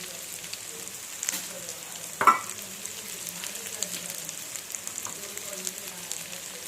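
Chicken frying in a pan with salt being stirred through it, a steady close sizzle with scraping stirs and one sharp clink of utensil against the pan.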